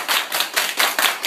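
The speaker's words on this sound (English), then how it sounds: "Hey, everybody clap your hands." Hands clapping in a quick, even rhythm, about five or six sharp claps in just over a second, close and fairly loud with no voices.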